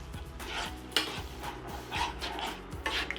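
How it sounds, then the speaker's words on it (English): Butter melts in a pan of reduced lemon garlic sauce with a soft, quiet sizzle, broken by gentle scraping and clinks of a utensil stirring against the pan. "And just melt the butter, turn the heat off."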